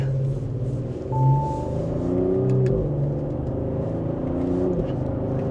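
Audi SQ5 Prestige luxury SUV with a 349 hp engine picks up speed after a U-turn, a steady engine hum and rising whir heard from inside the cabin, with no talk over it.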